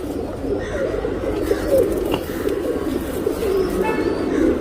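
A male racing pigeon coos in soft, repeated low throaty phrases, close by over a steady background murmur.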